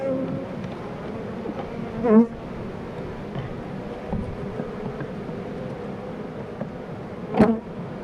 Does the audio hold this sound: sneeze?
no